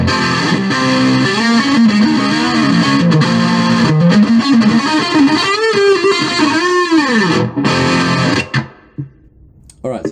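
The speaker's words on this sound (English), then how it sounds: "let's see how that insane channel sounds on the Spider 3" Heavily distorted electric guitar through a Line 6 Spider III 15-watt amp's insane channel plays a loud, sustained riff with bending notes, then drops away into near silence in the final seconds.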